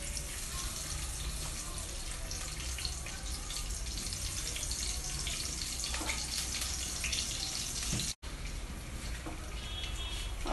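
Water poured into a cooking pot with rice, a continuous splashing, gurgling stream running steadily for several seconds, with one brief cut and lighter trickling toward the end.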